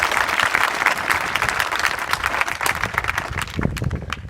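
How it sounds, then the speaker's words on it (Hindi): Children at a school program clap together in a steady, dense round of applause, loud and close, tapering slightly near the end. "आप लोगों ने ताली बजाई, जरा एक बार और जोर से ताली बजाई।"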